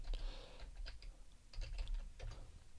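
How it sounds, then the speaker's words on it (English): Computer keyboard typing in a quiet room, a few quick bursts of clicky keystrokes spread across about three seconds. "I'm going to type in playground."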